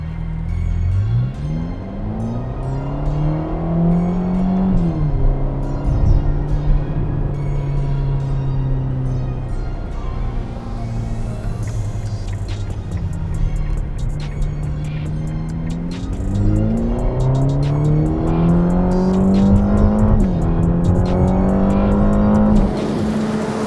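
A Ferrari Roma engine revs and accelerates loudly up through the gears, each pull rising in pitch before dropping at the shift, with tire noise building in the second half.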